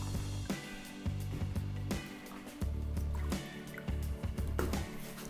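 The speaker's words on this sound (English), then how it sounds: "In another bowl, I'm gonna do a little bit of milk" Milk pours into a bowl already holding flour while making crepe batter, a continuous liquid stream with uneven glugs and drips breaking the flow.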